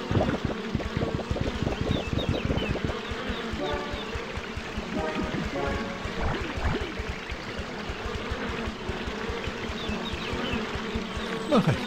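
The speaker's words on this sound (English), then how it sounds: "lot of buzzing bees." Swarm of bees buzzing in Piglet's Big Game video game, a steady busy drone with overlapping hums throughout, mixed with game effects and some speech-like sounds.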